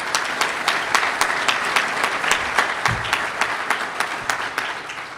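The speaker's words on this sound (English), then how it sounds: "I think they all deserve a big round of applause." A crowd at a university real estate education celebration applauds speakers and panelists, a dense, lively round of clapping with distinct individual claps standing out, steady throughout before easing slightly at the end.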